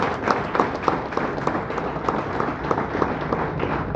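Audience applauding NDRF rescue personnel at a gathering in Sangli, a steady patter of many hands clapping at moderate loudness, continuous throughout with no pauses.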